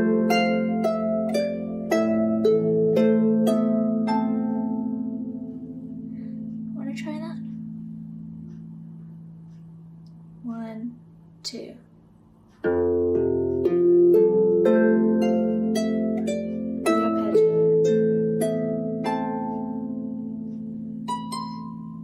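A Manx harp played with both hands together, plucked notes ringing in overlapping phrases, left hand leading with the right entering just after; a brief quieter gap midway with a few isolated plucks before the full texture resumes.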